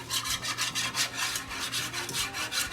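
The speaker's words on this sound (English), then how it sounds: "I'm going to whisk it all together" A whisk is worked quickly through a chicken sauce in a pan, making a rhythmic scraping and swishing, about three strokes a second, close and fairly soft, with no voices.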